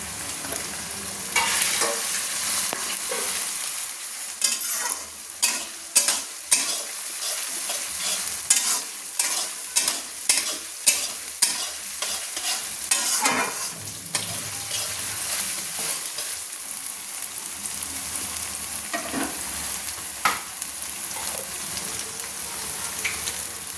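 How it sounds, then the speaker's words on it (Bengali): Garlic paste being stirred into frying mutton in a pan for a mutton kosha: a steady loud sizzle with bursts of scraping and clattering spoon strokes in the middle, then settling back to continuous frying. "তো রসুনটা দিয়ে দিচ্ছি, দিয়ে আমি একটু নেড়ে নিচ্ছি"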